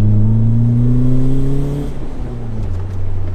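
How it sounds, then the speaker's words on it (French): A car engine's revs sweep up sharply during a heel-toe downshift, then fall away and settle into a lower, steady drone. The sound is close and fairly loud, with no talking. "Petit talon pointe qui va bien."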